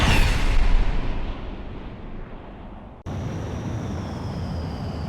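Nimbus impact explosions in the combat game Ace Combat 6: a loud, rumbling blast that slowly decays, then a second sharp boom cuts in and holds as a steady, roaring wash.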